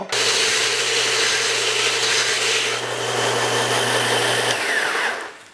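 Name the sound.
disc and belt sander sanding a wood workpiece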